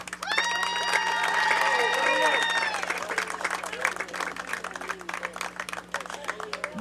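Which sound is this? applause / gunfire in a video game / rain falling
applause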